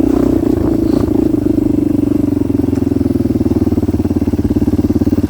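A Kawasaki KLX 230R dirt bike engine, a 230 running in a 260-pound bike with about 19 horsepower, chugs loudly and steadily up close with a rapid, even thumping pulse and no talk over it.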